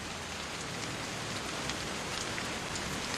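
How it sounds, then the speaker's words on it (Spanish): Torrential tropical monsoon rain in Singapore pours down in a dense, unbroken hiss, steady and loud throughout, with no voices. "lluvias rápidas y torrenciales se suceden con periodos de intenso sol"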